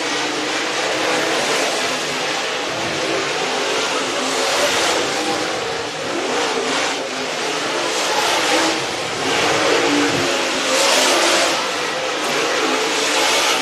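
Dirt track race cars roaring through a hot lap session at Sugar Creek Raceway, a loud, continuous engine drone that swells and fades as the cars accelerate past.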